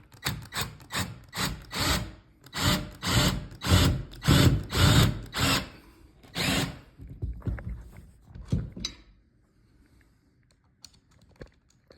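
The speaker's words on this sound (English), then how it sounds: "get my screw, and my drill." A power drill drives a screw into the wall for a TV wall mount in a quick series of short whirring bursts that pulse for several seconds before stopping, leaving near silence.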